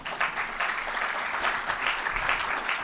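Audience applause in a lecture hall at a university politics institute event, a steady dense wash of many hands clapping at close-to-moderate distance with no voices over it.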